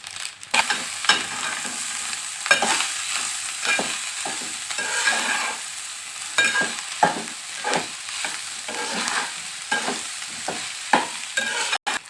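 Egg fried rice with tomato being stir-fried in hot oil. Sizzling frying runs throughout under repeated scraping and stirring strokes of the spatula, close and fairly loud, with no talking.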